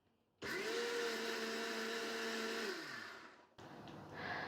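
A kitchen mixer grinder whirs on at full speed, grinding mustard seeds into a coconut paste for raw mango pachadi, for roughly three seconds before winding down, then a shorter second burst follows at close range.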